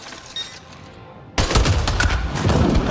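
Gunfire in the video game Mass Effect: Andromeda breaks out after a quiet moment, a dense, loud burst of rapid shots that keeps going to the end.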